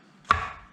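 A single sharp knife chop through the end of a zucchini on a cutting board, close and clear, with a brief thud that fades quickly.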